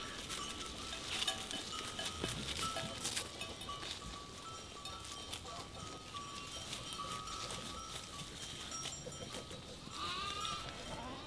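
A flock of sheep with lambs on a winter migration to pasture, bleating continuously near and far over a busy background of shuffling hooves and faint clinking bells, with no talking.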